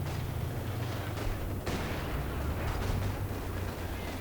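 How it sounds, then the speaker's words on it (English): Machine gun fire in Company of Heroes 2 during a 3v3 winter battle on the Rzhev map, dense rapid bursts mixed with rumbling artillery and explosions, loud and continuous throughout. "MG opening fire"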